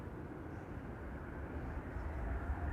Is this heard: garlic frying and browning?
no